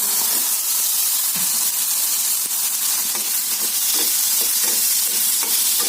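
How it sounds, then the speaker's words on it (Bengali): Chicken pieces frying in hot oil with onion and garlic hiss and sizzle continuously, with repeated scraping stir strokes of a spatula in the pan, close and loud, no talking. "মাংসটাকে তেলে পেঁয়াজ রসুনের সাথে ভেজে নিলে খুব গন্ধ হবে না"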